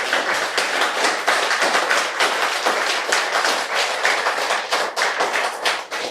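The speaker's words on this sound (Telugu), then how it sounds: "ఒక్కసారి జగద్గురు బ్రహ్మర్షి పితామహ పత్రిజీ గారికి గట్టిగా క్లాప్స్ చెప్తున్నాం" An audience at a spiritual talk claps loudly and vigorously in a dense, uneven burst of hand claps that stays strong for about six seconds.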